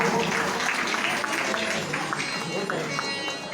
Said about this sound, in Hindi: एक बार जोरदार ताली से हो रहे हैं आप लोग।